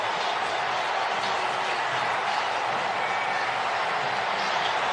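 A packed NFL stadium crowd roars in a steady, dense wash of cheering as Miami leads New England 26-24 with seconds left in the last regular-season weekend, loud and continuous.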